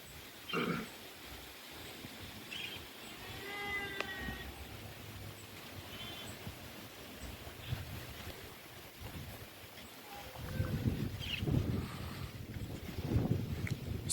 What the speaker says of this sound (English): So the wind is actually very strong